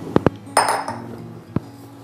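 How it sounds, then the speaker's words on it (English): Sugar tipped into a saucepan holding roughly chopped butter, for treacle flapjacks: two sharp metallic clinks, then a brief grainy rush as it pours, and one more knock against the pan near the end. "And then tip in the sugar"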